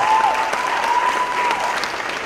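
Dense, steady audience applause follows a stage performance, loud and close for the whole stretch, with a faint tone sounding through the clapping.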